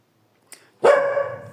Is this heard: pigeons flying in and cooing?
no